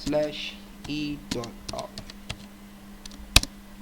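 Someone talks briefly while clicking keys on a computer keyboard: a scattered handful of quick, close taps with a sharper final keystroke.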